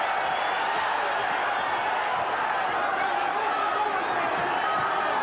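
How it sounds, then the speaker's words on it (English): A dense roar from an arena crowd carries on steadily through a WBC 122 lb super bantamweight title bout between Daniel Zaragoza and Paul Banke. Distant cheering and chatter hold an even level while a commentator talks over it. "The crowd understandably enjoying it."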